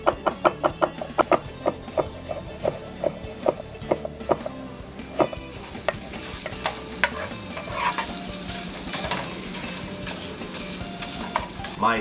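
Sausage browning in a frying pan for gnocchi with butternut squash, sizzling steadily while a utensil scrapes and taps the pan in a regular rhythm, then the stirring grows busier under the constant close fry.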